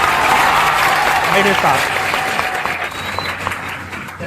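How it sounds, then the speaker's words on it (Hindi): An audience claps in a sustained burst of applause that slowly thins out, while a voice speaks over it. "एक बार हम यह चाहते हैं कि आप अपने लिए एक बार फिर से ताली बजाइए"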